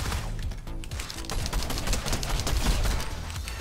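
Rapid-fire SMG bursts in a video game crackle close and loud, a dense run of shots that thickens and grows louder toward the end with no talking.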